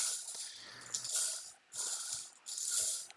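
Hard balls in a rack get shuffled by hand, giving bursts of clattering, rattling rolls that come in three separate waves with short pauses between them, close and fairly loud.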